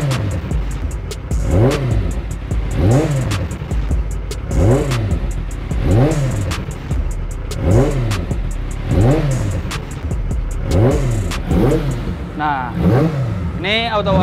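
A Kawasaki ZX-25R four-cylinder motorcycle engine in auto warm-up mode revs repeatedly in a steady rhythm, each loud close rise and fall of revs coming about every second and a half, with a faint voice underneath.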